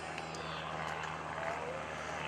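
An Extreme Decathlon aerobatic propeller plane drones steadily overhead at an airshow, a continuous engine hum with a faint shifting whine, distant and fairly quiet throughout.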